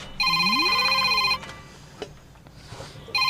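A mobile phone rings loudly and close by with a steady electronic ringtone that cuts off and then starts again, with no talking over it.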